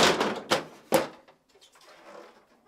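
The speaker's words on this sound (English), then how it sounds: "then pull the upper drawer forward and tilt it up and out" An upper freezer drawer in a GE refrigerator is pulled forward and tilted out, making three sharp plastic knocks and scrapes close by, then fainter rattling and sliding.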